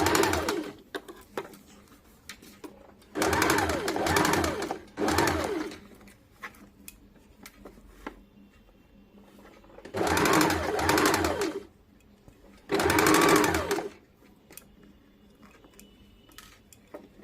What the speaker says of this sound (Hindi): हाफ इंच मोड़कर इस प्रकार से सिलाई कर लेंगे।